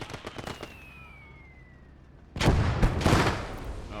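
Mortar fire in the Commonwealth Conquest war game: a falling whistle and scattered small pops lead to a loud, sharp blast that rolls on as a sustained crackling roar.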